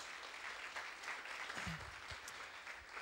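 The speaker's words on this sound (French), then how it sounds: "Est-ce qu'on peut l'applaudir?" An audience applauds a child volunteer coming forward at a Christian talk, with brisk, close, even clapping that continues steadily for a few seconds.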